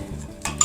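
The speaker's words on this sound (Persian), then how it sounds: "روغن و سیرمون رو مخلوط کنید." A spoon scraping and clinking briefly against a bowl as oil and crushed garlic are stirred together, close up with a light metallic tap at the end.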